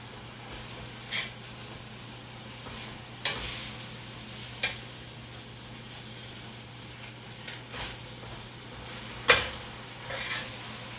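Salted, peppered vegetables sizzle steadily in a hot pan for a spinach enchilada casserole, a constant crackling bed broken by a few sharp clacks and scrapes as they are tossed, close and moderately loud with no talk.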